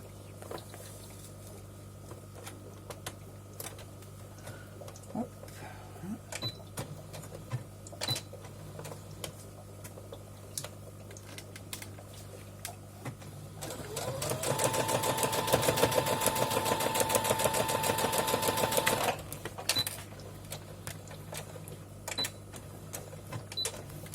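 After scattered soft clicks and handling noises, a sewing machine stitches a seam joining two fabric strips laid right sides together, running in one steady buzzing burst of several seconds before stopping, nearby with no talking.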